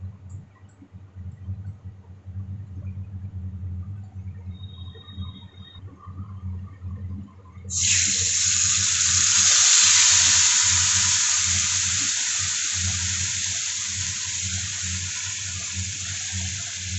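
Ground spices mixed in water, namely ginger paste, roasted coriander-cumin, turmeric and chili powder, hit hot oil for a curd-eggplant dish with a sudden loud sizzle that stays strong and steady, following a quieter low kitchen hum.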